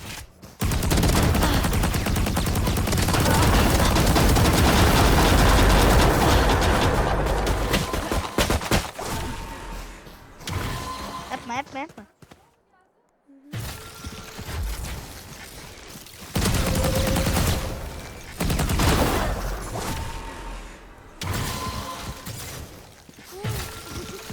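Vandal rifle fire in a video game, long loud bursts of rapid shots early on, then shorter separated bursts with brief pauses, close and dominant, with no talking.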